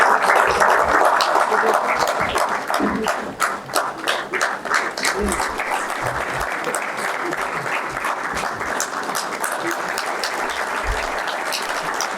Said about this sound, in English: Let us have a huge and thunderous round of applause in welcoming our Chief Guest